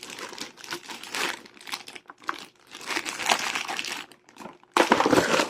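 Small protective plastic bag around the cable of a Logitech G413 SE keyboard crinkles in bursts during unboxing, close and fairly loud, with short quiet gaps between handling.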